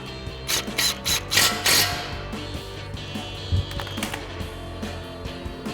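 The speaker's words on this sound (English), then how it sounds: "We'll tighten that back down with our 10 mil socket." Ratchet wrench with a 10 mm socket tightening a brake line bolt on a 2021-2025 Ford F-150 during a brake rotor job, giving several short bursts of rapid clicking up close, spaced by pauses and light handling clatter.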